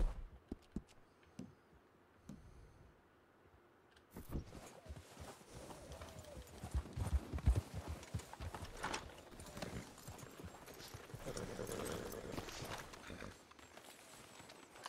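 Horses' hooves clip-clopping at a walk in the video game Red Dead Redemption 2, a steady uneven plodding over rough ground with ambient outdoor wilderness noise and a brief snort.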